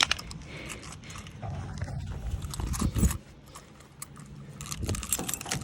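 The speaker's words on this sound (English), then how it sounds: "my keys just fell down my pants" Keys jangle and clatter at close range on an Australian sheep farm, a cluster of metallic jingles with rustling and thumps, and a louder jangle around the midpoint.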